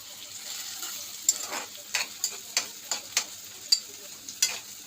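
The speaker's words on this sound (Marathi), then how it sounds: "त्याच्यामध्ये तेजपत्ता, दालचिनी आणि थोडा कांदा फ्राय करू" Onion, bay leaf and cinnamon frying in hot oil for a Kokani-style chicken dish, a soft steady sizzle punctuated by a series of sharp spatula taps against the pan as it is stirred.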